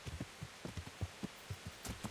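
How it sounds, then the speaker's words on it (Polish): Soft rain in the video game Kingdom Come: Deliverance patters in irregular low thuds, faint and steady, with no voices. "no, dźwięk tego deszczu."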